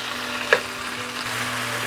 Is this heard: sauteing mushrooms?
yes